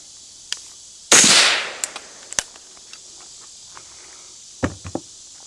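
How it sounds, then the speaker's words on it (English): Suppressed 5.56 rifle fire through a Dead Air Lazarus 6 silencer: one loud sharp report with a short decaying tail, followed by faint clicks and a few light knocks near the end. "Second is going to be the Dead Air Lazarus 6."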